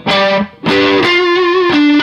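A short distorted electric guitar riff phrase: a few sustained notes, the longest bent with wide vibrato, loud and close with a brief gap early on.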